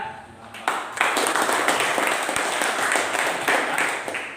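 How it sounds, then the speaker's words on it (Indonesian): A classroom group claps for group 4, a steady burst of applause from many hands lasting several seconds, loud and close with a few voices mixed in. "kita berikan aplaus untuk kelompok 4 ya"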